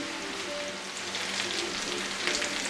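Home fries with sausage and onions frying in a cast iron skillet, a soft, even crackling sizzle heard up close and steady throughout, with no voices.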